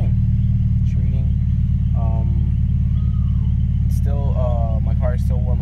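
Idling engine of an Acura RSX just after start-up while still warming, a loud, steady low rumble close by, with someone talking intermittently over it.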